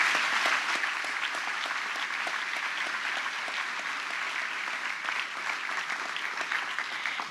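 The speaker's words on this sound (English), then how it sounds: "deserves another round of applause for those speakers" Sustained applause from a graduation ceremony audience for the class of 2019 speakers, a dense, even wash of many hands clapping heard from within the hall, steady throughout with no speech.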